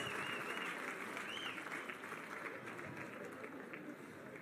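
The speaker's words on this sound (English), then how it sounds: "let's give him a round of applause." An audience at a live independence anniversary ceremony breaks into a round of applause, dense sustained clapping that holds steady and fills the whole stretch, with faint crowd noise beneath.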